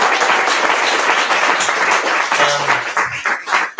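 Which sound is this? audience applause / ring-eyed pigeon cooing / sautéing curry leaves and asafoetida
audience applause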